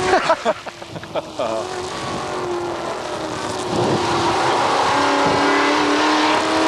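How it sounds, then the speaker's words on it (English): Touring race car at the 1982 Bathurst race heard from an onboard camera, its engine droning loudly and steadily inside the cabin, with a few brief bursts early and a rising, sustained tone as it accelerates. "The car's still running well."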